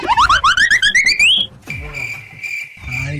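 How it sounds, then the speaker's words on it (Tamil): A shrill electronic alarm warbles in rapid repeating chirps, then settles into a steady high beeping tone, loud and close. "அலாரம் அடிக்குது, ஆனால் எழுந்திருக்க முடியாது"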